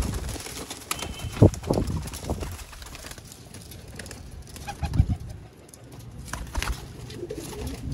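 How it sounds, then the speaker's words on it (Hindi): A Batera Ali pigeon, one of a set of Sialkoti pigeons kept for sale, coos close by in a few soft throaty bursts around steady background noise and light handling sounds. "बटेरा अली वाला कबूतर"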